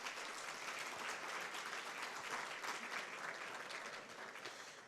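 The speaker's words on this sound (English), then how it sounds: "Round of applause" Steady, dense applause from a gala audience at an awards event for top immigrants in the Maritimes, loud and continuous throughout with no talk, easing slightly near the end.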